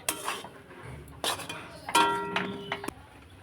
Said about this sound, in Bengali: এইভাবে নেড়ে নেড়ে একটা ডো বানিয়ে নিতে হবে